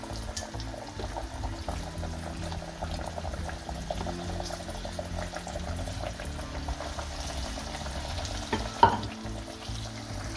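Floured fish deep frying in hot oil for a seafood basket alongside squid and shrimp, a steady dense bubbling sizzle throughout, loud and close, with a brief clatter near the end.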